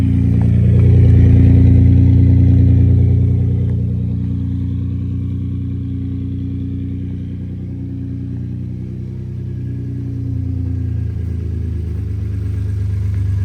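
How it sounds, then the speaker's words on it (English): A Datsun engine idles with audible turbo noise, a loud, steady low rumble close by that swells slightly in the first seconds and then settles, with no voices. "Thing sounds pretty good though. It's got a lot of turbo noise."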